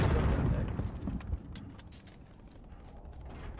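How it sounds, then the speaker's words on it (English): A vehicle blows up in Call of Duty: Warzone, a heavy low rumbling blast at the start that fades into scattered mechanical clatter and distant gunfire. "I've destroyed a vehicle"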